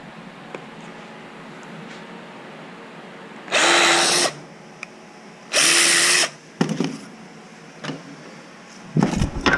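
Two bursts of a power drill boring holes in wood for beekeeping equipment, each lasting under a second, fairly close, followed by faint clicks and handling noises in an otherwise quiet workshop.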